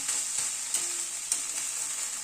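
Chopped banana flower sautéing in a pan, a steady close hiss of frying broken by a few soft scrapes and stirring knocks, with no talk.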